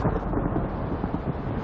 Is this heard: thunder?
yes